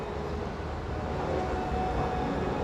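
A train at a Berlin railway station at night gives a steady, even rumble of rolling wheels and machinery, moderately distant and continuous with no talk over it.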